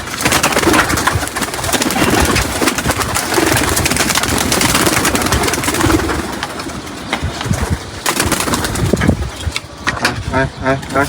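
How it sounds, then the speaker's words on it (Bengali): Pigeons released outdoors, a dense close flurry of wing flapping and cooing that goes on throughout, with people talking and calling under it. "এই 2টা কবুতর কুয়া সব ছেড়ে দিলাম"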